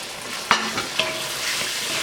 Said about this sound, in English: You want to keep stirring that in until it thickens up